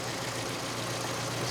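A small Kent engine with a factory carburetor idles steadily, a close, even mechanical drone with a low pulsing hum and no voices over it.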